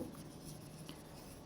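A marker scratches across a board during a maths lesson on circles, a short, quiet burst of soft squeaky strokes with no talk.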